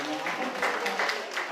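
Applause from a workshop audience at an international public speaking event, moderately loud claps rising in bursts with a voice or crowd murmur mixed in.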